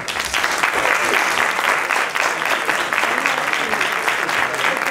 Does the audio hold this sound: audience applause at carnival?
yes